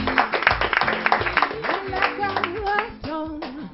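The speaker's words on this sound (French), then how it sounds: "On applaudit bien fort, c'est du direct." Audience on a live anniversary TV variety show claps along, rhythmic clapping mixed under a voice singing a cappella.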